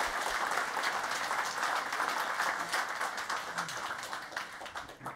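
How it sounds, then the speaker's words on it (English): An audience at a Facebook network engineering talk applauds two presenters with a dense, sustained wash of many hands clapping, loud and even throughout, tapering slightly near the end. "can we get a round of applause, please, for Jose and Daniel?"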